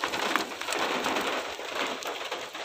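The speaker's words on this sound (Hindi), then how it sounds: "गाड़ी के ऊपर भी आ रही है बारिश, इतनी ज़्यादा बारिश हो रही है।" Heavy rain drums steadily on a car roof and windows, a dense close hiss of drops that holds unbroken and loud throughout, with no talk.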